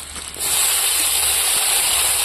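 Tomatoes dropped into onions frying in a little oil on a picnic stove; a quieter sizzle surges into a loud, steady hiss that carries on evenly.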